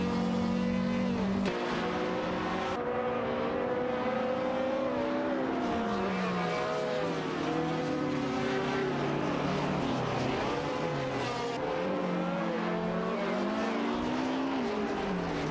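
Race cars in a racing video game, including a Maserati 250F T2, roar around the track, with several engine notes rising and falling through gear changes as cars pass, loud and continuous throughout.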